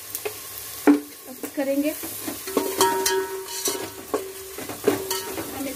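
Puffed rice frying in a pan with turmeric and salt, a steady sizzle under scraping spoon strokes, close and moderately loud, with a brief spoken word.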